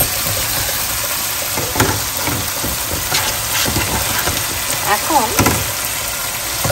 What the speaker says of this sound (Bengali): আমার লোটাটা এর ভিতরে আমি ছেড়ে দিলাম